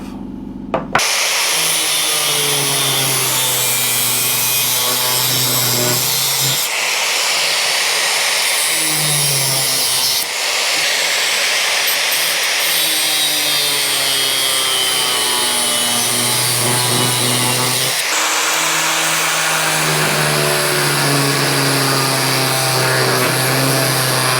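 A power tool cuts steadily through a metal part for a Royal Enfield bobber build, a loud continuous grinding whine with the pitch dipping and recovering as the cutting load changes, and no talking.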